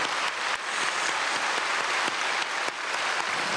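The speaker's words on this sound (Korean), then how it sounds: "박수하겠습니다" A church congregation applauds during Sunday worship at Myungsung Church, a dense, steady roar of many hands clapping with a few sharper claps standing out, close and loud with no talking.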